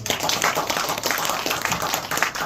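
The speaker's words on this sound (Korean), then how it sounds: "박수 한번 보내주십시오" An alumni association general meeting audience gives a round of clapping, a close, lively patter of many hands sustained throughout.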